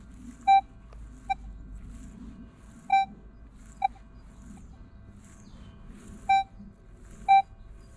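A Minelab X-Terra Pro metal detector sounds off on a deep buried target, giving six short high-pitched tonal beeps in an irregular run over a low rumble of wind and ground noise, with no talking.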